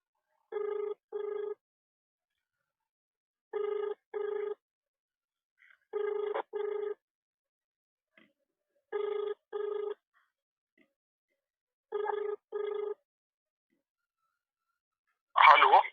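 A telephone rings on an outgoing call to the SDM of Timarni: six evenly spaced double-burst ringback tones sound cleanly over silence, followed by a short burst of a voice answering at the end.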